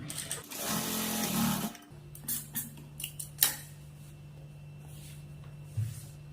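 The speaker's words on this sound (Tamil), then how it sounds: "ஒரு சைடு மட்டும் ஒரு அரை இன்ச் மடித்து தையல் போட்டுக்கலாம்" An electric sewing machine stitches a cut blouse piece, running in a steady, close-up whirring burst for under two seconds, then falling quiet as scattered handling taps and fabric rustles follow.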